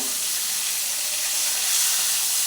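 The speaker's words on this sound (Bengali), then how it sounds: "মাছটা তেলে দিয়েছি মাছটা ভাজা হচ্ছে" Fish fries in hot oil in a home kitchen, making a loud, steady, hissing sizzle that carries through without pause and without any talking.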